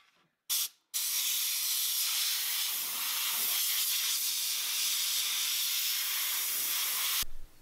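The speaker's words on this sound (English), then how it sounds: "we're going to want to clean out the AC condenser with this air compressor" An air compressor blasts a continuous loud hiss of air through a C5 Corvette's AC condenser, starting with a short burst, then a sustained spray of about six seconds before stopping abruptly.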